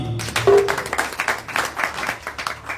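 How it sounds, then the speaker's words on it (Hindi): A brief burst of audience clapping during a spiritual katha talk, uneven and moderately loud, with a spoken voice briefly at the start. "जोरदार ताली।"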